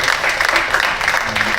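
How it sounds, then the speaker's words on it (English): Brief burst of closing applause from a meetup audience after a talk on an Unreal Engine film project, dense clapping throughout with voices mixed in. "These are the claps closing."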